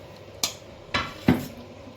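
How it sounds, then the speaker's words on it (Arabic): A spoon scrapes and knocks three times against a wide cooking pot as herbs, dill, coriander and onion are stirred, sharp metallic clinks over a quiet kitchen background. "نقلب بقى الخضره كده مع البصل"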